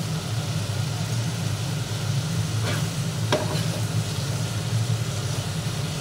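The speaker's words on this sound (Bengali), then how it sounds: "এবার আমি এর মধ্যে যে পটলটা, বরবটি আর আলুটা একটু ভাপিয়ে নিয়েছি, এটাকে আমি এর মধ্যে দিয়ে দিচ্ছি।" Steamed pointed gourd, yardlong beans and potato are stirred into a hot sizzling pan, giving a steady low frying hiss with a couple of brief scraping stirs near the middle.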